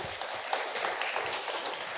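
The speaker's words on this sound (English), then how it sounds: "can we have a big, big round of applause here with us" A conference audience at a technology event gives a round of applause, a hissy, even spread of many hands clapping, moderately distant and steady for about two seconds.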